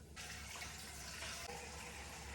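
Water runs from a tap in a van kitchen, beginning suddenly and then flowing in a steady, faint gush.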